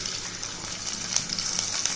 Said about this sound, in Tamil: 2 ஸ்பூன் நல்லெண்ணெய் எடுத்துக்கிடுவோம். நம்ம இடிச்சு வச்சோம் இல்லையா, இஞ்சி பூண்டு சீரகத்தை இதில் போட்டுக்கிடுவோம்.